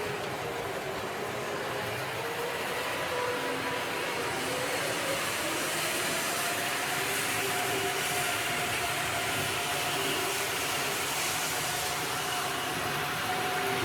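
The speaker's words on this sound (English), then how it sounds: "Ribbed wheels making quite a racket already," A Tri-ang Hornby Blue Pullman model train runs on a layout with ribbed wheels, making a steady, loud, continuous rattling whir close by that lasts throughout without any pause.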